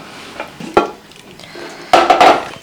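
A pressure cooker lid is opened after cooking chow chow in a home kitchen, giving a few sharp metallic clicks and clanks followed by a louder rattling clatter of the lid.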